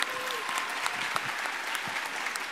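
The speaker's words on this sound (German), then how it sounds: "Einen kräftigen Applaus für unsere Jury" Applause for the jury at the DoKomi 2021 cosplay contest, a dense, steady patter of many hands clapping across an indoor hall, moderately distant and sustained throughout.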